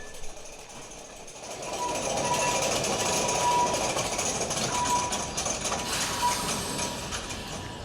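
The Elevador de Santa Justa lift in Lisbon rises with a sustained mechanical drone and thin piercing whine, swelling after a quieter start and staying loud and steady as it ascends.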